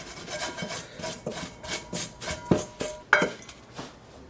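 A mixing bowl is scraped clean while pizza dough is being made, giving a series of rhythmic rubbing and rasping strokes with a couple of sharper clinks, close and moderately loud, with no talking.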